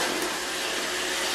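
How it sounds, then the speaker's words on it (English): An iRobot Roomba 614 robot vacuum cleaner runs with a steady, close, hissing whir of motor and suction, alone and unbroken. "this is a fantastic vacuum"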